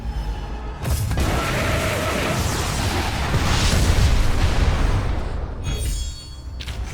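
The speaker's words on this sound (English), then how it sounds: "Time for bombardment!" Bombardment in Reverse 1999 sets off a long, loud roll of booming explosions, a sustained rumbling blast that swells and fades over several seconds, with no talk.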